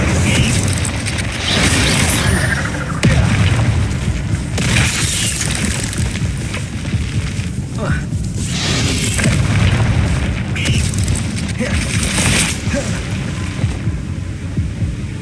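Incendio fire spell blasts in the video game Hogwarts Legacy come as repeated booming bursts of flame over a dense, loud background of game effects and music.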